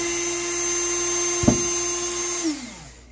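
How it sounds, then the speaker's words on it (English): High-speed rotary tool with sanding discs porting the cylinder head of a Tillotson 224cc engine: a steady, close whine with a brief scraping contact midway, then the motor winding down toward the end. "And then we're going to go in with the sanding discs"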